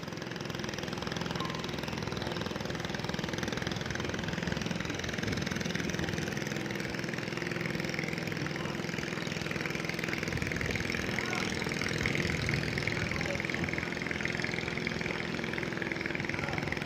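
A fishing boat's engine runs steadily at Pattani fishing port, a continuous mid-pitched mechanical drone at constant loudness for the whole stretch, with no voices over it.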